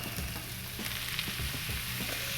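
A seafood mixture hits a hot buttered pan with garlic and vegetables, a loud continuous sizzle and frying crackle with a few stirring scrapes, close and without talk.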